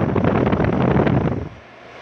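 The fan of a 3-ton air conditioner indoor unit gives a loud, steady rushing whoosh, then quickly drops to a faint hum.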